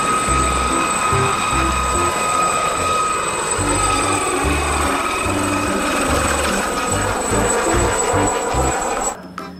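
A toy helicopter runs with a steady mechanical whir and a high electronic whine, close and loud, ending with a sudden clunk as it stops, while soft speech and handling noises stay in the background.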